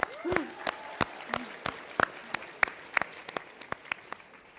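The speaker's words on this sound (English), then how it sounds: "So give yourself a round of applause for that." Audience applause at a Q&A session with Kalpen Modi at CPCN '11: a modest, scattered round of distinct hand claps that thins out toward the end, with a brief voice rising over it near the start.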